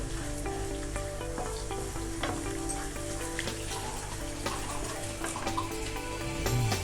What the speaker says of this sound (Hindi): इसको भी भूनेंगे अच्छी तरह से, इसकी स्मेल ख़त्म करेंगे।